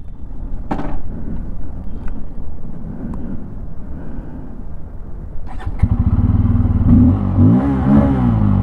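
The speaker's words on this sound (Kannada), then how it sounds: "ಎಕ್ಸಾಸ್ಟ್ ಈ ತರ ಕೇಳಿಸುತ್ತೆ." A 2024 Bajaj Pulsar N250 motorcycle exhaust idles with a low, uneven burble and light clatter, then revs sharply, its pitch climbing and falling loudly across the last few seconds.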